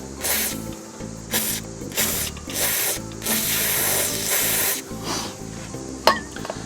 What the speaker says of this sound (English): We'll spritz it.